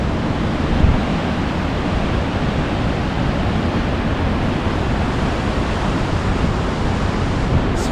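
Rushing water pours over rounded rocks below Hagerman Pass, a steady, dense broadband roar that holds even and unbroken throughout, with no voices.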